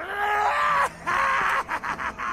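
An enemy screaming in the virtual-reality shooter Borderlands 2: a loud, close, strained vocal wail that breaks off, then resumes in choppy, pulsing bursts.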